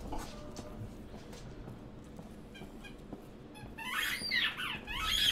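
A dog chews a squeaky clown toy somewhere in the room, giving a quiet background bed with faint scattered squeaks before a burst of louder, high-pitched rapid squeaks near the end, with no talking.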